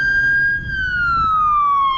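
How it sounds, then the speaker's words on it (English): Close, loud police siren on a Montreal street holding a high tone, then gliding downward, with faint traffic noise underneath. "Proper siren use."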